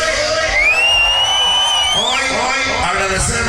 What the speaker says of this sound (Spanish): Grito de la banda que está feliz el día de hoy.